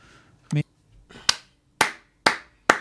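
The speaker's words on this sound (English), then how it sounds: "I just have to clap for that." A single person claps slowly and deliberately at the Oxford Union, making four sharp, spaced claps close to the mic, with a brief voiced sound just before them.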